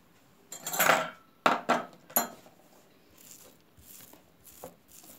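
A utensil mashes cottage cheese in a bowl for lazy vareniki, giving a few loud clinking scrapes early on and then softer, scattered taps.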